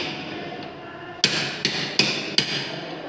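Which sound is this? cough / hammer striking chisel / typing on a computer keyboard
hammer striking chisel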